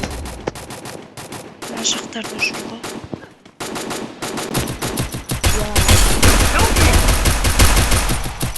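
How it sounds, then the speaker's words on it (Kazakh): Gunfire in the Free Fire battle royale game: rapid bursts of automatic fire, sparse at first, then a dense, loud continuous barrage, with a voice talking briefly over it. "Анда біреулер атысып отыр дейді."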